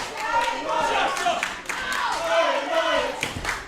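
A crowd at a lumberjack wrestling match in Bromley cheers, claps and shouts continuously, a dense, lively roar of many voices with scattered hand claps throughout.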